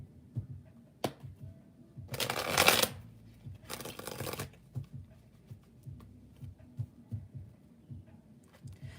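Tarot cards are shuffled in two quick riffling bursts, close and fairly quiet, set among soft taps and handling noises in an otherwise quiet room without speech.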